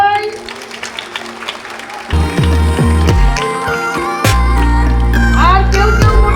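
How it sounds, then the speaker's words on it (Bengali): Audience applause at a girls' high school Yoga Day celebration, a broad patter of clapping that continues under loud talk amplified over a PA system. "হাততালি দাও সবাই"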